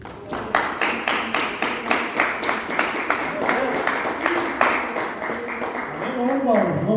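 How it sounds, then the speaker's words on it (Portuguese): A church congregation bursts into rhythmic unison clapping, a steady beat of sharp claps repeating for several seconds, with voices and music rising faintly beneath toward the end. "Vamos bater uma salva de palmas para Jesus?"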